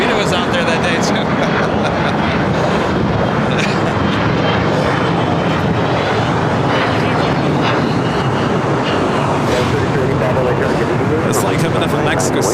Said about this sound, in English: Delta Airlines flight 630, a 757-200, originally delivered to Northwest Airlines in May of 1996